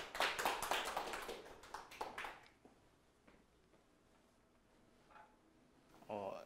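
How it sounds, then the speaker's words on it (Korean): Students in a university classroom applaud a classmate stepping forward, a short burst of lively clapping that dies out after about two seconds, followed by quiet room tone and then a voice speaking. "박수로 한번"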